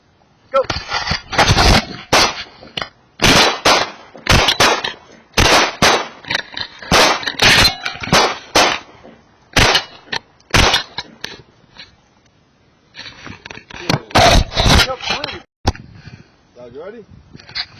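Pistol shots ring out at a 25-yard outdoor range in a slow-fire string, many sharp, loud bangs in uneven bursts with short pauses, while someone talks between and over them.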